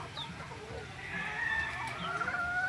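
A Blue-Fish McLean gamefowl rooster crows in a breeding pen, one drawn-out call rising and holding, fairly close, with faint clucks and other birds in the background.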